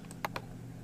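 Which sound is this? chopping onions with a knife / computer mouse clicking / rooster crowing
computer mouse clicking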